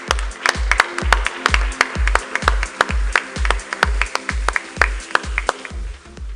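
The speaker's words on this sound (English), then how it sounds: "please give him a big round of applause" Steady, rhythmic clapping from an audience at a Rotary club installation ceremony, a close and fairly loud round of applause with regular beats throughout.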